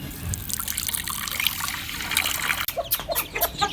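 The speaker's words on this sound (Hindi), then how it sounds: "इसमें पानी डाल के मैं इनके आगे रखूँगा।" Water trickles and splashes steadily as it is poured into a container for Aseel chickens; faint clucking sits in the background, with a few brief sharper splashes near the end.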